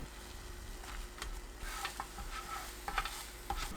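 Beaten egg for a rolled omelette cooks in an oiled pan over low heat, giving a faint, soft sizzle with a few light scrapes and taps, close by and quiet, with no voices.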